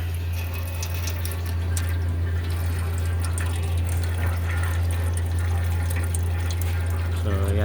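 Automatic transmission fluid drains in a steady, continuous stream from a 2021 Toyota Camry, a loud liquid pour under a constant low hum with no talking.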